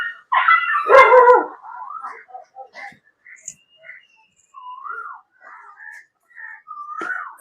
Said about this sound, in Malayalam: 3 നായ്ക്കൾ അടിപിടി പോയി